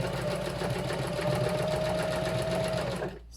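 A sewing machine with a walking foot, set to stitch length 3, runs steadily over thick denim seams, a constant close mechanical whir that stops abruptly at the end.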